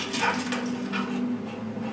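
A dog in a comedic film scene whimpers and yips in a whiny, excited way, heard fairly loud over a steady background hum.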